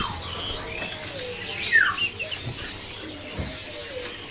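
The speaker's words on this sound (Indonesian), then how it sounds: "burung landuk topi hitam." A landuk topi hitam (black-capped babbler) calls at a bird-selling kiosk: one bright, sweeping chirp near the middle, with a few softer notes over faint background murmur.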